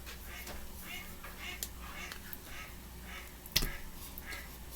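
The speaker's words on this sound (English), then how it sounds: "So you might be able to hear the duckies quacking." Ducks quack outside an open kitchen window, several short nasal calls faint and somewhat distant over steady room noise, with a sharp click near the end.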